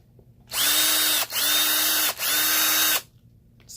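A Dewalt DW920 cordless screwdriver runs in three loud, steady bursts with short pauses between, its motor whine close and alone.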